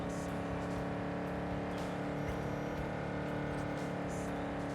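A Nomad car in the Cyberpunk video game holds its engine high near redline with a steady droning rev. It stays constant and close for a few seconds, with faint game sounds flickering over it.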